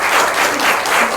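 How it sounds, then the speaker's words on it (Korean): A short, dense burst of audience applause greets a company CEO after a talk at a cultural-city community event in Suyeong. The clapping is steady and full throughout, with no voices over it. "저희에게 경험 나눠주신 대표님께 박수 한번 보내드릴까요?"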